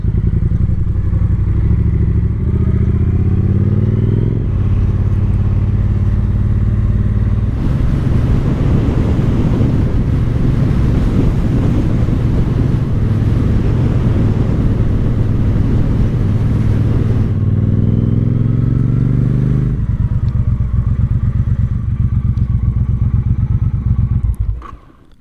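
A Triumph Bobber motorcycle carrying an SW Motech LT1 tank bag rides along the road, its engine droning steadily and loudly for the whole stretch, rising and falling with gear changes, with wind rushing over the microphone.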